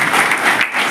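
A brief, loud burst of dense crowd clapping at an outdoor political rally, steady across the whole moment.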